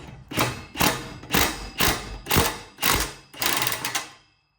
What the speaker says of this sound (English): I've got my socket right here. I'm gonna come at it from below